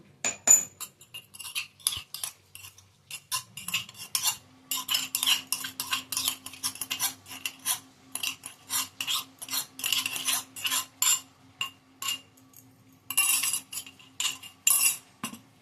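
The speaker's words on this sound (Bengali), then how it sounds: "এবার এই মূলোটার মধ্যে আমি এগুলো পিষানো জিনিসগুলো মিশিয়ে নেব" Crushed spices and carom seeds are mixed into grated radish in a bowl, with a spoon clinking and scraping against the bowl in quick, rhythmic bursts, close and clear, with a faint steady hum underneath.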